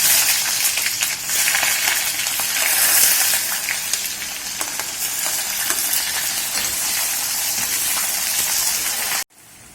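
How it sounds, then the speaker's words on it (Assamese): Onions added to hot oil in a kadai, crackling and sizzling loudly and steadily with a few brief clinks, then cutting off abruptly near the end. "এয়া তেল গৰম হৈ গৈছে, এতিয়া মই পিঁয়াজখিনি দি দিম।"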